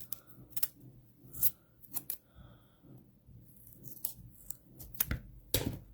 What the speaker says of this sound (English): I'm going to cut it down a little bit. And I'm going to cut it into thirds